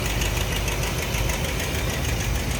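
A 1957 Cadillac Coupe DeVille V8 fitted with a new Edelbrock carburetor runs steadily at idle, a loud, continuous rumble with a faint knocking beat and no voices.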